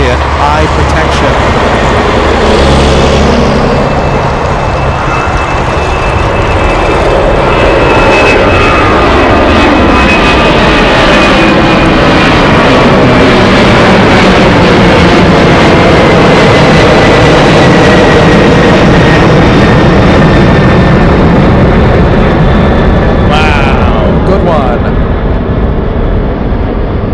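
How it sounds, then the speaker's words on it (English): Boeing 747 jet engines idling on a taxiway at Anchorage airport, a loud continuous roar and whine with a steady high tone and deep rumble throughout, with talk likely mixed in. "we have a 747 on taxiway Romeo getting ready for takeoff"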